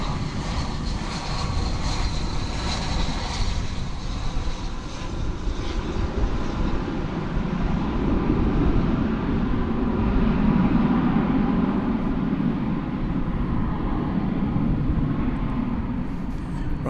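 An American Airlines jet roars past at DFW Airport at night, a loud, steady broadband engine rumble holding throughout with a slight swell in the middle, no voices.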